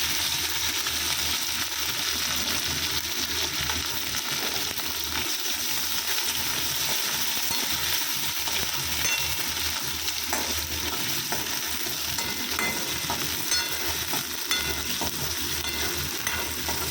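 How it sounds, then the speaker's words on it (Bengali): Chopped onion fries in a pan with whole spices and chili, giving a continuous hissing sizzle. Occasional light scrapes and clinks come from stirring, and the sound stays close with no voices. "পেঁয়াজটা ভেজে নেবো।"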